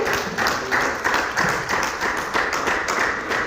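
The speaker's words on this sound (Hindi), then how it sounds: "जोरदार तालियां" Audience at a Lucknow fun event clapping after a performance, a lively round of applause with dense overlapping claps that swell and settle in waves, fairly close and without talk.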